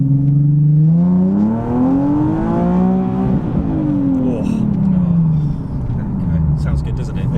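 A Nissan 370Z Nismo V6 revs up and down with a rising and falling engine note, loud and close, while people talk over it.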